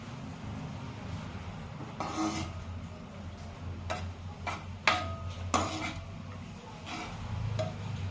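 A spoon stirs egg curry with added water in a pan, giving scattered scrapes and clinks at a moderate level over a low steady background hum.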